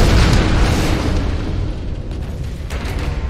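A large explosion in the Tomb Raider video game, a loud low rumbling blast that rolls on and slowly fades with crackling debris.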